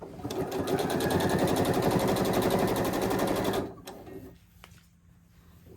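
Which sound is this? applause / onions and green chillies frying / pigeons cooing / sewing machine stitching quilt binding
sewing machine stitching quilt binding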